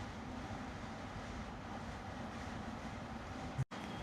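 Inside a moving train, a steady low rumble of wheels and carriage noise holds at moderate level, cut by a brief dropout near the end, with no talking.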